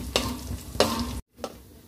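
Chicken pieces fry in oil for an Udupi-Mangalore uppu koli dry dish, with a close sizzle and two sharp stirring scrapes, a brief silent cut, then one more scrape over fainter frying.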